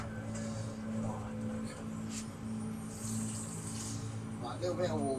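Water pouring from a tap into a pan of Goan chicken vindaloo, a soft steady trickle and splash running for several seconds, fairly faint, with a voice murmuring over it.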